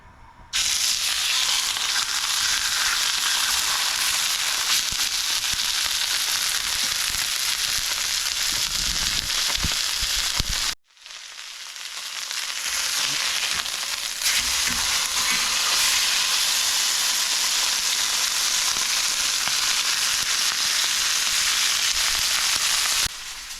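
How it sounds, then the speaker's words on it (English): Beef chuck roast sears in a hot pan with loud, continuous sizzling and crackling that drops out briefly midway, then returns strong and steady. "Let's get started with this searing."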